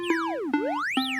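A synthesizer tone whose pitch is swept by a triangle-wave LFO glides steadily down, then up, then down again, with three retriggered notes along the way. It is loud and clear, with no other sounds.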